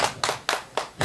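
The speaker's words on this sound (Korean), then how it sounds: "훌륭한 거지 될 것 같다고 박수 쳐주세요." Audience at a Korean gakseori street show, a female performer's one-woman act, claps in five sharp, evenly spaced bursts, close and fairly loud, with no talking.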